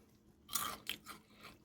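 A single crisp bite into double-coated country fried chicken, quiet and close, gives a short crunch followed by a few fainter crackles.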